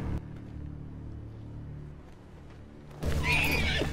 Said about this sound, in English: That's my Uncle Benjamin's horse!